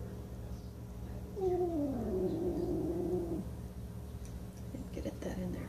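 A cat lets out a drawn-out yowl with a falling, wavering pitch, close by and moderately loud over a quiet indoor hum, followed by faint movement sounds while it receives fluids.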